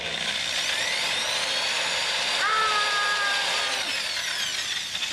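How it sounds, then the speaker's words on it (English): A power drill bores holes into a wooden skateboard deck, a sustained high whine with a pitch shift midway as the bit bites, loud and close. "you line them up and you drill them straight down"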